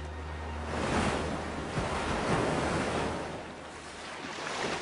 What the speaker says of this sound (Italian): Questa volta le onde la conducono alla spiaggia.